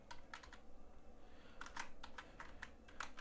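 Computer keyboard typing with quick, light clicking keystrokes in short bursts, close and quiet, with no speech.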